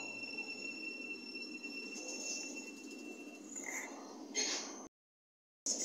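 A train passes at speed on the fast line at Leagrave station on the Midland Main Line. It sounds as a steady, broad rumble and rush with high wheel squeals, then cuts off abruptly. Voices are faint in the background.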